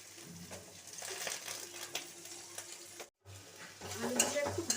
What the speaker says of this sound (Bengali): পেঁয়াজগুলো একটু ভাজা ভাজা নরম হয়ে গেছে এর মধ্যে আমি আলু দিয়ে দিচ্ছি